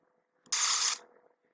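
A black bat sound effect set to loop in a Unity game scene: a single short, harsh, hissing screech bursts in abruptly, holds for about half a second, then cuts off over a quiet background.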